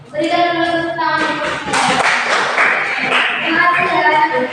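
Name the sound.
class clapping hands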